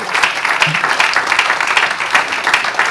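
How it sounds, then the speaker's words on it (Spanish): A church congregation claps loudly and steadily through a morning service, with dense, continuous applause holding at an even level from start to finish. "Dale fuerte el aplauso a Jesús."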